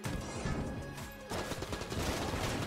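Explosion in the roguelike shooter Enter the Gungeon, a dense burst of crackling, crashing blasts and gunfire-like pops, loud and continuous for a couple of seconds with a fresh hit midway.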